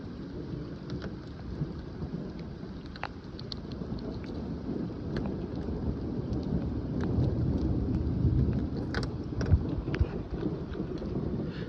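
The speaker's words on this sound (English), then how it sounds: "there's like tons of lightning strikes." Severe thunderstorm outdoors with steady heavy rain and low rumbling thunder rolling under it, plus scattered sharp drips and taps close to the microphone.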